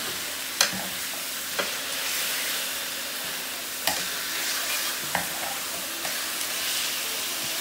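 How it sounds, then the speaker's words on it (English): Thin pork chops browning in a hot skillet, a steady close sizzle and crackle throughout, punctuated by a few sharp pops and clicks of a utensil or spatters, with no talking. "I put them in a skillet to let them brown on both sides before we make the gravy"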